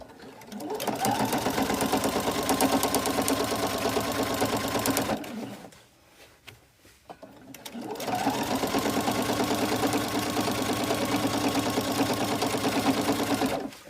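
A sewing machine stitches in the ditch along the seams of a scrappy practice quilt, running in a loud, steady mechanical whir that stops briefly partway through and then resumes at the same pace.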